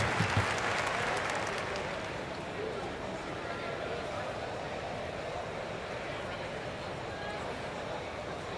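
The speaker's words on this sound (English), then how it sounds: "Please give a big round of applause to your Timberwolves." Virtual basketball arena crowd in NBA 2K24, Grizzlies versus Timberwolves, applauding in a steady dense roar that swells briefly at the start and then holds level, with a few faint voices mixed in.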